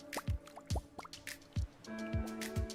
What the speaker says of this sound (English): Seawater cascades off, revealing the harvest within.